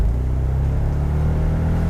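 A Mercedes SL55 AMG (R230) grand tourer's engine pulls hard under throttle, a loud, steady, deep rumble with a slight rising note throughout.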